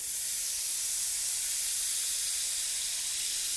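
Orange zest hitting a hot pan to deglaze it gives a loud, steady sizzling hiss of steam that runs unbroken and close, with no voices over it.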